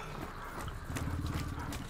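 Hooves clip-clop steadily from a horse in the video game Hunt: Showdown, a close, busy patter that runs through the whole stretch with a faint snort or whinny mixed in.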